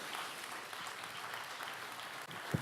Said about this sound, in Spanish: Aplauda su nombre en esta noche.